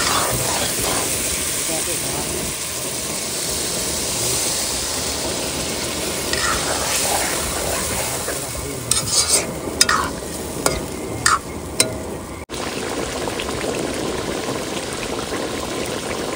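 A fish curry cooks in a pan after water is added. Steady sizzling and bubbling is broken by a few sharp stirring clinks midway, with a brief cut and the simmering continuing afterward.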